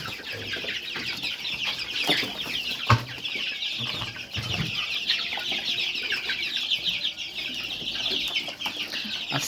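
Sonali chickens in a farm coop cluck and call continuously at close range, a dense layered flock chatter with a few brief knocks and wing flaps, and no talk.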